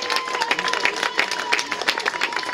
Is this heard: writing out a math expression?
no